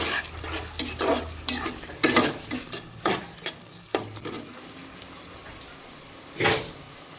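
Shrimp bhuna frying in a pot and stirred with a spoon, giving repeated scraping strokes over a steady sizzle, fairly close and moderately loud with no voices.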